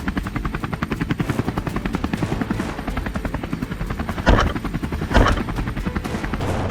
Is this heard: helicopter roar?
yes